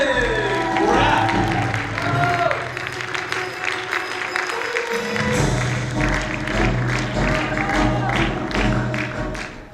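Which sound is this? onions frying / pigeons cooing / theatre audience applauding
theatre audience applauding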